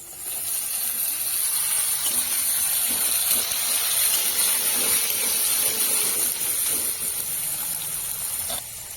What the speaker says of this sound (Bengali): এবার আমি এই ছোট ছোট করে কেটে রাখা আলুগুলো তেলের ওপরে দিয়ে দেবো